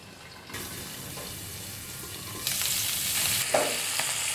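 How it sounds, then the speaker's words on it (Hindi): Tandoori chicken roasting in butter in a covered pan on a low flame, without an oven, gives a steady soft sizzle that swells louder and brighter partway through, with a small clink near the end. "फ्लेम पर भी थोड़ा बटर लगा के रोस्ट करेंगे।"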